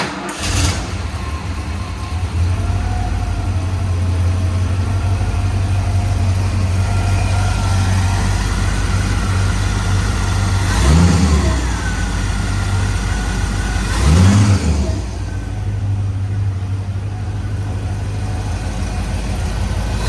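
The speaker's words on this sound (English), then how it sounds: "Let's get an exhaust note here." A cold 1968 Intermeccanica Italia Spyder idles steadily with a deep, even exhaust note, and two clear revs rise and fall near the middle before it settles back to a loud, close idle.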